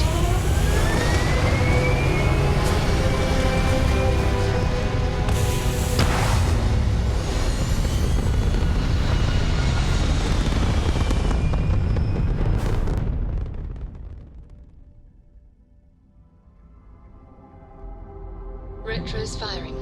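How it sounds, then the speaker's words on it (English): Spaceship retro thrusters firing in the video game Starfield: a heavy rumbling roar with descending tonal sweeps that cuts off abruptly, leaving a quiet lull before faint sound returns; a voice speaks over it. "Retros firing."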